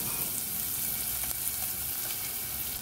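Onions fry in oil in a pan, giving a steady, dense sizzle with faint crackles that continues evenly throughout, with no talking.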